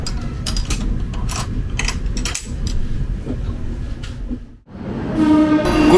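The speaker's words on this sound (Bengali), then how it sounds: "ট্রেন চিত্রকূট ধাম ছেড়ে দিল।" A passenger train pulling out of Chitrakoot Dham station rumbles loudly on the rails, with clanking, ratcheting rattles of the carriages over a steady roar that dips briefly before swelling again.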